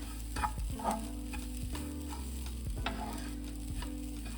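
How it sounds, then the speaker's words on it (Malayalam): Grated coconut roasting in a hot pan for Kerala bitter gourd theeyal, with a constant low sizzle, regular scraping strokes of a stirring spoon and a steady background hum, close up and with no talking. "ഈ തേങ്ങ ഇതിലേക്ക് ഇട്ട് നമുക്ക് വറുത്തെടുക്കാം"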